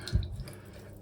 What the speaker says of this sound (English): Just turn the water back on now